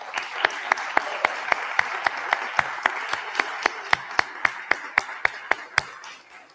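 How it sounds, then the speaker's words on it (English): A crowd at a city's annual State of the City address applauds, broad clapping steady throughout, with one close, loud pair of hands striking a sharp, even beat on top. "another round of applause for Officer Quinton"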